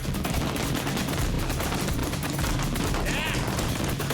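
A pyrotechnic fireworks display fires a link from a rooftop, producing a dense, continuous crackling barrage of rapid bangs, loud and sustained throughout.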